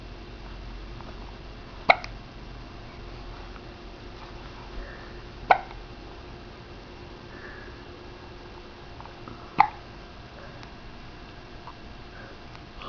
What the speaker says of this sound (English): Hiccups again?